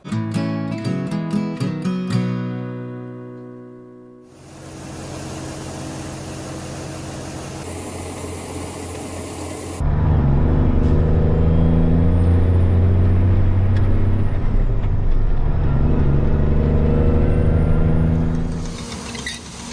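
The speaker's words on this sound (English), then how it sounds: "I just parked this truck perfectly. One smooth motion all the way around the corner into the shed." A truck swings around a corner and pulls into a shed, its engine rumbling loud and steady for most of the stretch before easing off, with assorted clunks and hisses earlier on.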